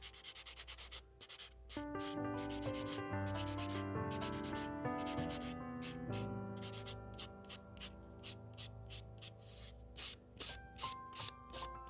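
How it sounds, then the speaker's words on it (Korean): A sanding block rubs lightly over a silk nail extension in short, rhythmic strokes. The soft, close scratching sits under steady background music. "가볍게 슥슥슥슥 샌딩 블럭으로"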